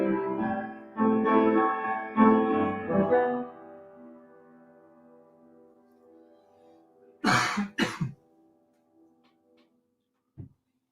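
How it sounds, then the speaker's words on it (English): A few harsh coughs ring out close by on a home livestream mic around the middle, with a single faint cough near the end, after a stretch of humming tones that fades away. "I know those coughs sound bad through the mic"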